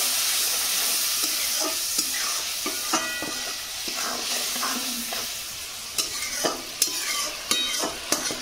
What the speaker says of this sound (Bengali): মশলাটা সুন্দর করে কষা হয়ে যাবে।